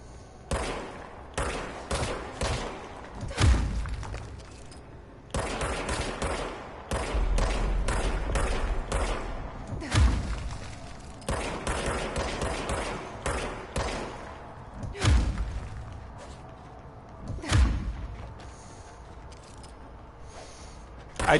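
Gunfire from a gun in the video game Control, repeated bursts of rapid shots in irregular clusters with a few heavier booming thuds, loud and close throughout, with no talk over it.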